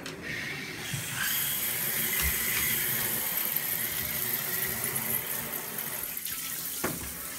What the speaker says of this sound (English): Just to make sure that it's kind of rinse Akira off with warm water.